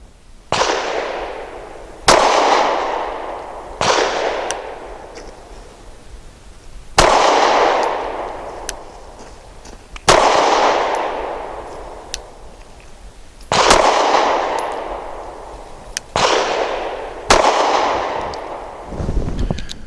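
A Sig P365 SAS pistol firing about eight loud, sharp shots at irregular intervals, each a sudden crack followed by a ringing outdoor echo, with no talking.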